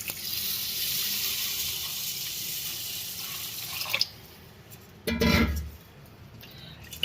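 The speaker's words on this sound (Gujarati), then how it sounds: "અને આપણે બે પાણીએ ધોઈ નાખીએ" Basmati rice is washed in water, first a steady pouring, swishing flow, then a short pause and a louder splashing burst near the end, close and with no talk.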